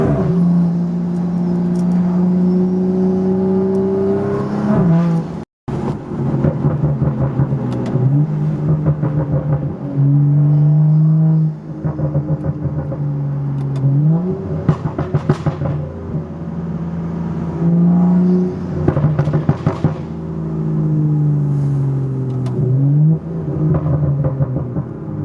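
Loud, close exhaust from a BMW F22 M235i in Sport Plus, repeatedly revved and let off, with each lift bringing crackling burbles and popping backfires over about 25 seconds.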